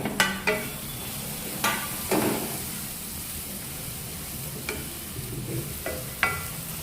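Capsicum and onion sizzle in a hot pan while being stirred, with a steady frying hiss broken by a few sharp scraping stir strokes spread across the clip.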